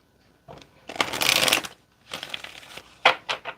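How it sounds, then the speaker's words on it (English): Tarot cards are shuffled by hand in a few crisp riffling bursts, a long rustling riffle followed by shorter flicks and taps, close and clear with no talking. "Let me get one more shuffle."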